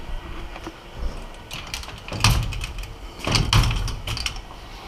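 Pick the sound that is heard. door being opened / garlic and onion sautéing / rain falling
door being opened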